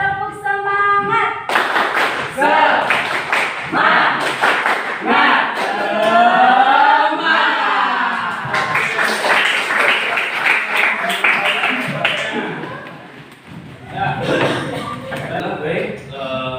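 Students in a classroom perform a rhythmic spirit clap, bursts of patterned hand claps in quick sets separated by short pauses, with chanting voices in between and throughout.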